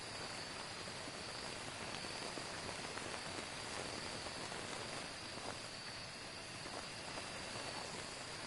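Rain pours outdoors at a large campground in a ghost-hunting video game, a dense, even patter of drops on surfaces that holds steady the whole time at a soft, moderate level, with no voices over it.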